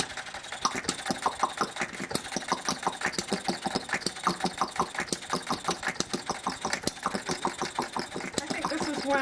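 A small engine idles close up with a rapid, uneven chugging rhythm and a wet, gurgling knock running steadily throughout, from a leaking exhaust valve with something stuck under it.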